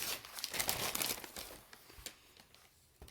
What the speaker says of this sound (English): And then you'll be able to remove the backing.